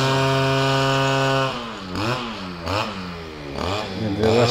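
A grass cutter runs in a village neighborhood, starting as a loud steady engine hum, then rising and falling in repeated revving surges.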